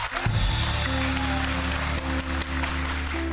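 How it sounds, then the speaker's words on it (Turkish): A live television studio audience claps in a continuous wash of applause over sustained music, holding a fairly even level throughout. "Galatasaraylılar da alkışlasın o zaman."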